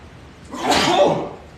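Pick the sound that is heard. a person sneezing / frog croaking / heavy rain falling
a person sneezing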